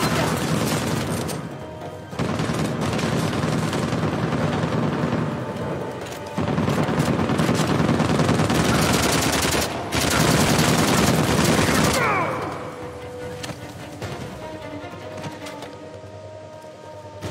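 Gunfire in an animated action movie: bursts of rapid automatic shots and heavy booms pound continuously over about twelve seconds, then taper into a rumbling aftermath, with shouted voices in the mix.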